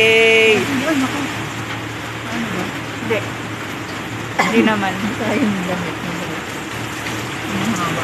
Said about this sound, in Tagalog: Ay! Ulan! Rain, go away!